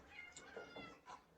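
A cat gives a few short meows in quick succession, faint and close-ish, with a brief gap before a final meow.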